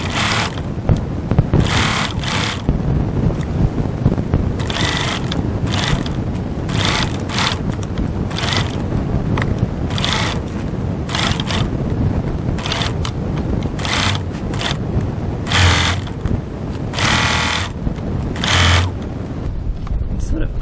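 A sewing machine stitches a crossbody bag seam at 2.4 stitch length and a one-centimetre seam allowance, its motor running in steady bursts of rapid mechanical clatter with short pauses between runs.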